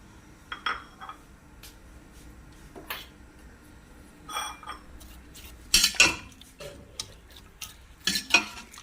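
Oil and chopped onions going into a pan for a pakora curry, heard as scattered clinks of a spoon and utensils against a pot with a soft sizzle beneath, in short bursts with no talking.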